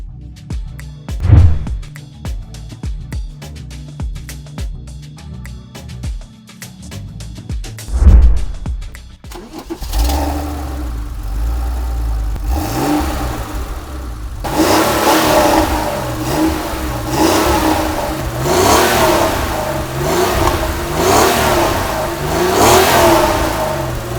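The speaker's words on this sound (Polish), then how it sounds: "To jest jeszcze seryjny wydech. To jest tak zwany cold start." A Porsche 911 (993) engine cold starts with sharp revs through the stock exhaust, then settles into a loud, rumbling idle that rises and falls with occasional blips, close by with no talking.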